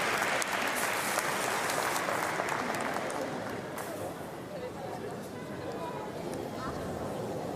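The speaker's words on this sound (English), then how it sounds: "So a round of applause from the crowd." Arena crowd at a women's up to 45 kg para powerlifting final in Paris applauding loudly and continuously, the broad wash of clapping slowly easing while a commentator talks over it.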